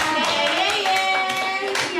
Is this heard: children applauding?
yes